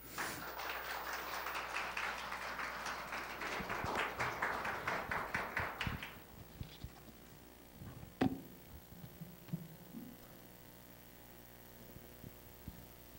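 Warm applause from a church congregation at a worship service rises steadily for several seconds and then cuts off, leaving a faint hum and a few scattered taps in a quiet hall.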